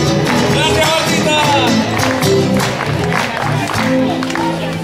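Applause and crowd noise from a live concert audience, a steady loud wash of clapping and voices with musical tones underneath and shouts rising over it.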